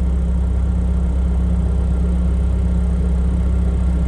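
A heavy tractor engine idles steadily up close, a constant low rumble with no change in pitch or any voices.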